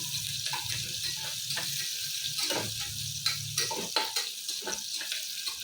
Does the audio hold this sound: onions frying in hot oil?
yes